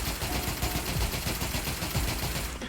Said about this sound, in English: this is me firing with the virtual stock on